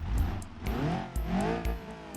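Ibishu Covet 2.0 GTZ with a Pessima engine in the BeamNG driving game, revving and accelerating close up, its engine note rising and falling through several surges with brief shift-like breaks.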